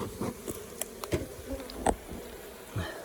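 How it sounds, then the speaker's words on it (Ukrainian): Honeybees buzz faintly around a hive, with soft intermittent hums passing close, plus light clicks and knocks in between. "Трошки є бджоли, котра на виході"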